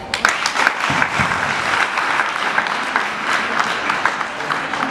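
A crowd at a college science day applauds after an elephant toothpaste demonstration, with sustained clapping and a few sharper individual claps standing out, plus faint voices underneath.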